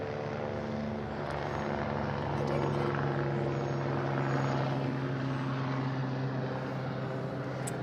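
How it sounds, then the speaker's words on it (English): A helicopter passes overhead outdoors, its rotor and engine drone loud and continuous for several seconds, swelling slightly in the middle before easing off. "I'm gonna pause while a helicopter goes overhead."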